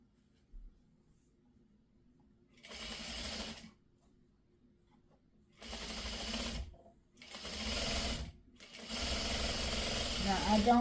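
A sewing machine stitches quilt triangles for a scrappy sawtooth star quilt in four separate runs with short gaps between them, each run of moderate loudness and close by.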